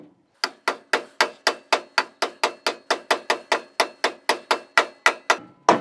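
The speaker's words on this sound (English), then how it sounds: "if you got one to tap it in, you should use a copper hammer" A copper hammer taps a part into a Land Cruiser swivel hub sharply and repeatedly, about twenty evenly spaced metallic strikes in quick rhythm, close and loud.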